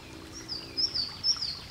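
A small water bird sings in short high warbling notes, brief and moderately clear above a low steady background of running water or wind.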